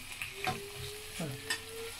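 Potatoes fry in oil for a Spanish omelette, a brief close sizzle with light bubbling and a few soft clinks, no voices.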